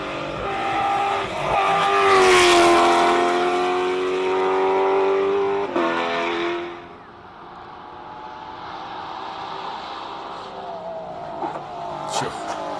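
A race car at the Simola hill climb accelerating hard with rising engine notes through gear changes, loud at first, then receding into a distant drone with a commentator talking over it.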